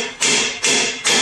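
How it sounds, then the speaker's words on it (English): A hammer taps a part into alignment while lifting a Jeep Wrangler: three sharp, evenly spaced metallic strikes, close and clear with no talking. "Let me adjust it with a hammer."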